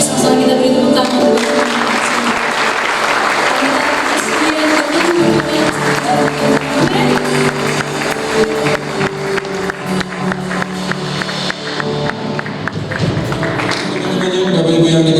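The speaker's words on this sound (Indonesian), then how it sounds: "sama-sama kita beri tepuk tangan" A church congregation at an evening youth service applauds, with dense clapping that starts full and settles into a rhythmic beat of claps, fairly loud and close.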